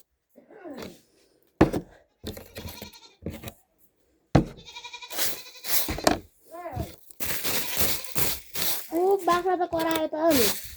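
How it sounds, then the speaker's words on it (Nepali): A goat bleats several times at close range in a cold village setting, the wavering calls separated by short pauses, with people talking in between. "बाख्रा त करायो त नि"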